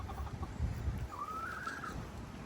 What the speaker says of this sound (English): The chickens might get loud because they know I have a little bouquet treat for them